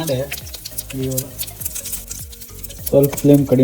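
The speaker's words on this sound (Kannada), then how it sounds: "ಇದನ್ನು ಹಾಗೆ ಮಿಕ್ಸ್ ಮಾಡಿ ಬಿಸಿ ಬಿಸಿ ಬಿಸಿ ಇದ್ದಾಗ" Hot jalapeño mixture being stirred in a pan on the stove, with soft scraping and sizzling under steady talk throughout.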